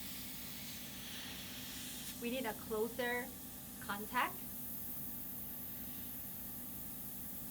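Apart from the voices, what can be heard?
spraying oxygen formula onto skin with a sprayer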